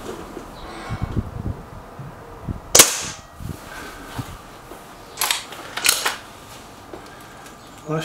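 An air rifle fires a single sharp crack during a Remington War Hawk versus SMK XS36 shooting match, standing out clearly among softer handling clicks and rustles.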